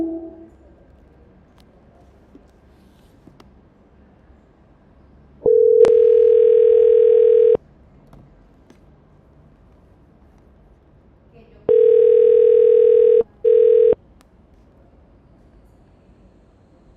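A voicemail greeting tone sounds as a single steady electronic beep of about two seconds, followed several seconds later by a second beep that breaks briefly and resumes, with a quiet line in between.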